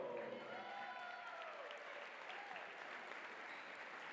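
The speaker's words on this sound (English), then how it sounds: "let's have a round of applause for the Trinity College seniors" Steady applause from a crowd at a women's college basketball game honoring seniors, sustained and even throughout, with a faint voice trailing off at the start.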